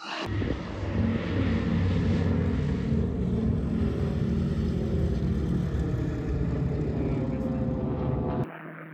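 The radial piston engines of a C-47 (DC-3) transport plane idle after landing, a loud, steady, throbbing rumble heard from nearby that cuts off abruptly near the end.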